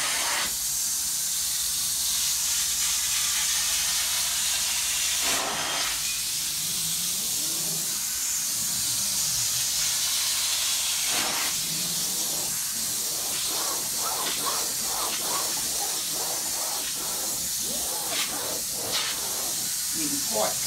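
A low-moisture upholstery extraction tool works over a sofa arm with a continuous loud hiss of suction and spray, with a few brief changes in pitch as the tool moves, and talking over part of it.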